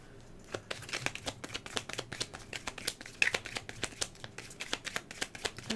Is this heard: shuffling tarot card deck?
yes